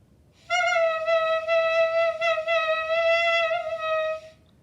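A single sustained clarinet note played with a loose embouchure, giving a slightly wavering, unsteady tone, held for about four seconds with no other sound.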